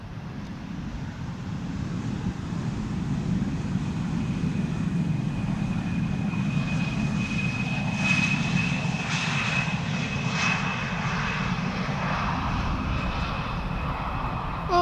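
A Chinese Boeing 777 airliner at Schiphol Airport gives a steady, loud jet engine roar that swells slightly midway and holds throughout, with no talking.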